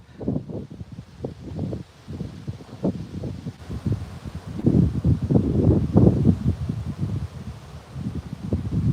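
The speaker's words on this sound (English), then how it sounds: "the wind is just howling, you guys" Strong outdoor wind gusts buffeting a microphone, rising and falling in loud rumbling surges with a rustling edge, continuous and close, no talking.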